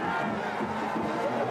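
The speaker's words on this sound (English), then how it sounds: "Oh, the crowd doesn't like it." Stadium crowd at a high school regional playoff football game voicing disapproval, a steady dense roar of many voices at moderate distance throughout the short stretch.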